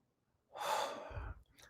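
A single slow, audible intake of breath, close and quiet, rising and then tapering off with a soft low rumble near its end.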